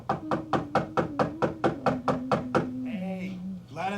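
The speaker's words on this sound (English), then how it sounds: "He's just banging on the door." A fist pounds a door in a scene from The Office, a rapid, evenly spaced run of about a dozen loud thumps over a sustained vocal tone, then a brief pause before more voice.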